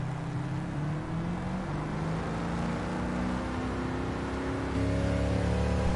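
A car engine in Gran Turismo 7 revs continuously and loudly, its droning tone climbing in pitch and dropping back at each gear change, with no voices present.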